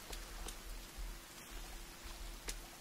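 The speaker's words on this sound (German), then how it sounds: "Aber wir sind mit Regen in die Höhle gegangen und gehen raus und es regnet." Rain falling in the video game The Forest, a soft steady patter and hiss with a few louder drops and a low rumble, faint and continuous with no voices.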